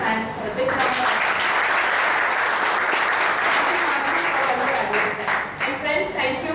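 An audience at a Companies Act 2013 lecture claps together at the end of a presentation, dense and sustained for several seconds, fairly loud and close, tapering slightly near the end, with faint voices underneath.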